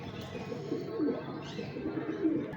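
Sialkoti pigeons coo in low, soft rolling calls that repeat over a steady background murmur, fairly close, with no clear speech.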